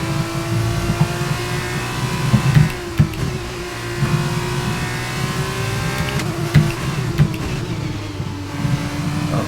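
An F2 race car in F1 22 at Zandvoort drones loudly and continuously, its engine tone rising and falling through gear changes and throttle lifts, with no talk over it.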